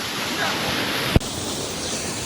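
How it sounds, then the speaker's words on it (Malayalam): A waterfall near Kharikola village on the Everest Base Camp trek in Nepal, a steady distant broadband rush of falling water, continuous and moderately quiet, with a single brief knock near the middle. "വെള്ളച്ചാട്ടം."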